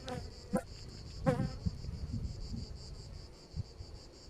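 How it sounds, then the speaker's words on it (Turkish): Faint, steady buzzing of honey bees at a hive hovers in the background, broken by a few soft knocks and clicks nearby during a hive frame inspection. "Arı da gayet sağlıklı."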